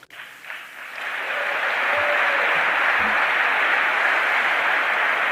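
A crowd bursts into sustained applause, many hands clapping steadily and loudly, building quickly after a brief quiet start and holding at full strength.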